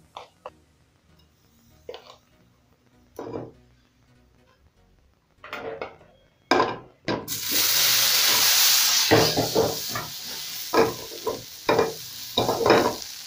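After scattered clinks and taps, dried rosemary hits hot butter and a loud sizzle bursts in and holds, cut by repeated scraping stirs and pan knocks.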